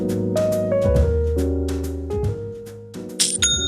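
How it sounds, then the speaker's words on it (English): A Shopify sale notification chime: a bright, bell-like jingle of several clear tones ringing out in quick succession over about three seconds, ending in a high sparkling ding, with no voices. "that's the sound of another sale on Shopify."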